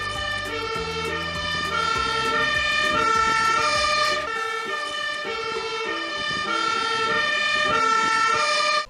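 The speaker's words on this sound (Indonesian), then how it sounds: "Ini adalah truk damkar." A toy fire truck plays a loud electronic wailing siren that warbles continuously for several seconds. A steady tonal pattern sits over a low rhythmic mechanical hum that drops out partway through.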